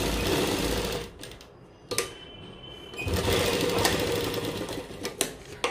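A sewing machine runs a straight seam on plain fabric, whirring steadily and close, briefly slowing and pausing near the middle before speeding up again with a few sharp clicks.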